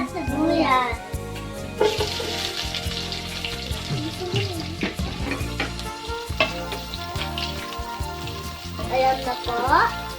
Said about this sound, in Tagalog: O una, lalagyan na natin ang bawang at sibuyas.